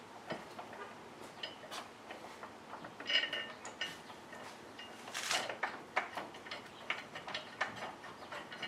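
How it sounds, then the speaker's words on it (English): Bolts fitted by hand during an LS engine swap, a faint run of small metallic clicks and ratchet-like ticks close by in a quiet garage, with no speech. "And now put the back bolts on."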